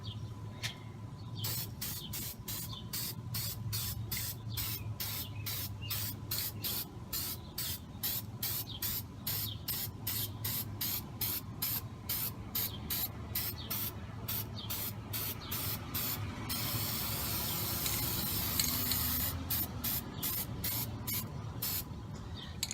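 Black spray paint hisses from an aerosol can in a long run of short, rapid bursts, close and steady, with a brief continuous spray near the end.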